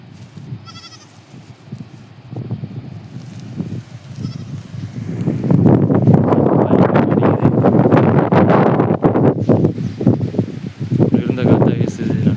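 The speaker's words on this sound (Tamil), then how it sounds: "காற்று நல்லா காற்று அடிக்குது ஃப்ரெண்ட்ஸ்." Strong wind sweeps through a village before rain, its rushing roar building to loud gusts midway; a voice speaks over the early part.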